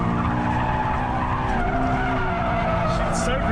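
A Subaru BRZ skids and spins, its tires giving a loud sustained squeal over a revving engine that climbs and falls, with excited voices talking over it.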